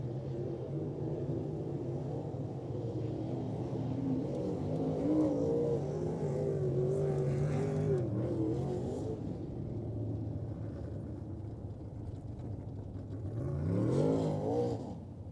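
A race car rolling slowly up to practice at Gas City I-69 Speedway, its engine rumbling low and steady from the cockpit, with a brief rise in revs near the end.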